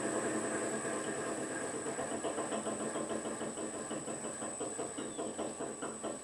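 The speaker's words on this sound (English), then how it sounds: "You hear the backlash in the gears." A Monarch metal lathe turning slowly in back gear at roughly 80 RPM, its steady mechanical hum carrying a rapid, regular clatter of gear backlash throughout, continuous and close.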